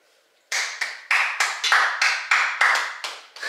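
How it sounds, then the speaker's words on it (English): Two people clap together at close range in a quick, even run of about eleven sharp claps. They start after a brief hush and carry on to the end. "Clap ourselves out."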